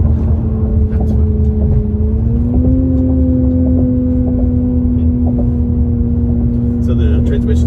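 A 2021 Jaguar F-Pace S R-Dynamic engine, held in third gear through its 9-speed ZF transmission, gives a loud, steady, close-up drone whose pitch climbs slightly partway through and then holds.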